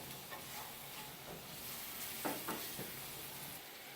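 Garlic tossed and stirred in a hot pan, giving a steady close frying sizzle with a few soft clatters from the pan or utensil.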